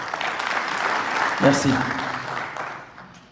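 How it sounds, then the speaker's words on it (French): A crowd at a scientific forum opening in Tinghir applauds in a sustained, moderately loud wash that tapers off at the end, with a brief voice speaking midway. "je vous demande de les applaudir, eux."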